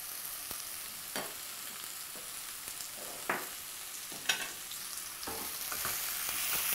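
Curried zucchini sizzles in coconut oil in a pan, a steady hiss with a few soft scrapes and clicks of stirring, fairly quiet and close.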